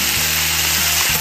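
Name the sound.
stir-frying pork with pickled chili, ginger, garlic and bean paste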